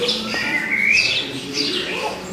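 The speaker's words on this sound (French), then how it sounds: "Les oiseaux chantent." Birds sing in a small garden in southern Morocco, with clear, close chirps and whistled sliding calls repeating over a couple of seconds, and no talking.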